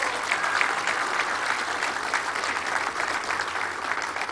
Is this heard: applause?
yes